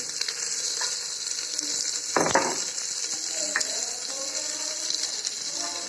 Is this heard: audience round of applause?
no